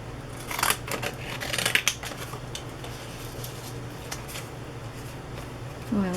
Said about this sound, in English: Decal scissors here.